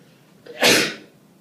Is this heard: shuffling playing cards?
no